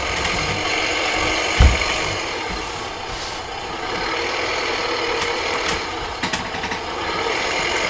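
Tractor engine in the video game Farming Simulator 2015, a steady mechanical rattling drone with a few brief knocks and clunks, heard alone without talk.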